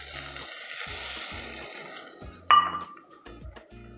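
Okra frying in a pan hisses softly, then mustard paste goes in with a sharp metallic clang of the utensil, followed by scraping stirs and light sizzling, close up and without talk.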